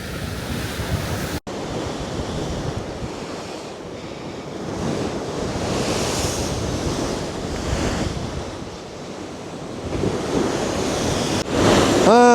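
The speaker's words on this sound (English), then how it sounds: "At midnight we arrive on the open sea, and looks like the waves are not so high, pretty quiet." Ocean waves on the open sea in the Drake Passage, a continuous loud roar of surf and water mixed with heavy wind buffeting the microphone.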